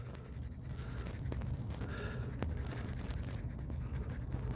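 Pencil scribbling steadily on scratch paper to color in a shaded area, a close, continuous scratchy rasp with rapid back-and-forth strokes and no voices.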